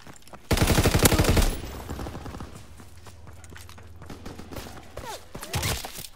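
A loud, rapid burst of gunshots from Call of Duty: WWII erupts for about a second, then fades into quieter background activity, with another short flurry of shots near the end.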